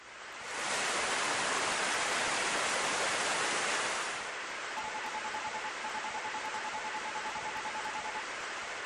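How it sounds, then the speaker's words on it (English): Rain pours steadily onto concrete at night in the PSX game Tobaku Mokushiroku Kaiji, a dense hissing wash that swells quickly, holds loud, then eases to a slightly softer, even downpour with a faint thin tone running through it. "I could not hear anything but the sound of the rain hitting the concrete"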